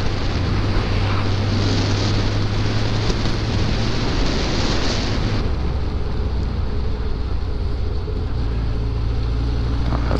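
A Kawasaki ZR7 motorcycle engine pulling in fifth gear below 2000 rpm, a steady low rumble heavily masked by loud continuous wind rush from riding.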